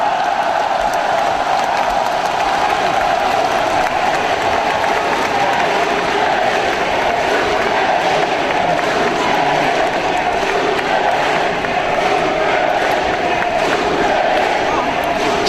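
A large crowd at a Democratic United Party regional primary rally in Gwangju applauds and cheers to welcome a presidential candidate, a loud, dense roar of clapping and voices that holds steady throughout.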